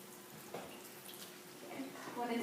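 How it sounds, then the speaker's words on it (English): Water runs from a tap to test its temperature before filling a bottle for a bucket-fed calf, a soft steady flow under a quiet room tone, faint and close. "you turn on the water, and then you test the water right here to see if it's warm or if it's cold"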